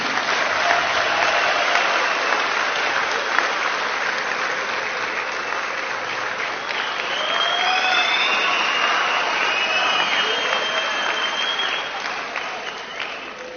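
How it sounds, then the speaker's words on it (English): A large political rally crowd applauds President Zuma at an MK party gathering: loud, sustained clapping and cheering fills the whole stretch, with whistles and shouts rising above it and tapering slightly near the end. "give a round of applause to President Zuma"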